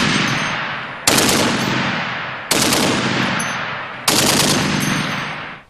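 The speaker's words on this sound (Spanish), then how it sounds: "Actualmente es la ametralladora más temida en el campo de batalla." A 12.7 heavy machine gun fires three long sustained bursts, each one a loud, dense roar that trails off slowly before the next starts, with no voices.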